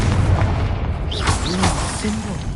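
A Confringo blasting spell bursts in Hogwarts Legacy on PS5: a loud, booming explosion with a rumbling low end sustains through the moment, close and heavy, with brief bright magical whooshes above it.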